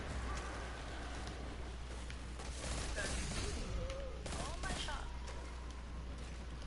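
Gunfire from a weapon in the video game Destiny, bursts of rapid shots and impacts scattered across the clip beneath a low hum and some faint talk.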